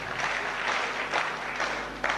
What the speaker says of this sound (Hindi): आप ताली क्यों बजा रहे हैं?